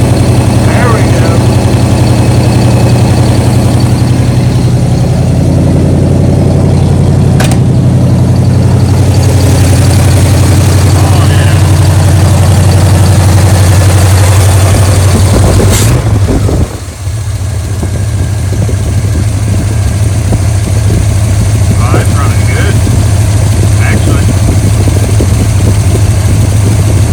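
A 1979 Cadillac Phaeton engine with a freshly rebuilt carburetor idling steadily, a low loud drone that holds for the whole stretch with a sharp click and brief dip about two-thirds through.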